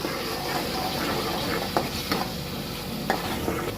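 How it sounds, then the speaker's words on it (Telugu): Masala for a spicy fish curry (chepala pulusu) fries in a pan with a steady, close sizzle, while several sharp scrapes and taps of a stirring spoon stand out toward the end. "పచ్చి వాసన పోయేంత వరకు ఫ్రై చేసుకోవాలి."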